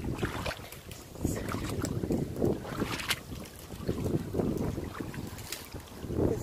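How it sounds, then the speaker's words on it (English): Gusty wind buffets an outdoor microphone near water by an old castle, irregular low rumbling bursts rising and falling across the whole stretch, loud and close with no clear talk. "It's a bit windy, so apologies if the sound is picking that up."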